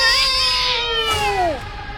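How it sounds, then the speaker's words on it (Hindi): A black cat gives a loud, close, drawn-out meow with a falling pitch at the end, followed by faint background noise. "एक काली बिल्ली दौड़कर मेरा रास्ता काटती"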